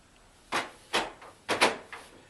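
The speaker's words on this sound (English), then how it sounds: "These are the levers on the back side that you press down to open your doors up." Levers on the back of a Cooler Master Cosmos 2 computer case pressed down to open its doors, giving four short plastic-and-metal clacks in uneven succession, close and moderately loud with no talking.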